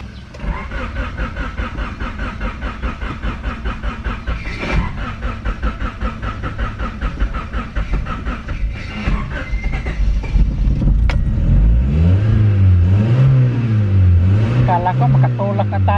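An overheated car engine cranks with a steady, loud grinding churn, then catches and runs, its pitch sweeping up and down as it is revved, with voices talking over it.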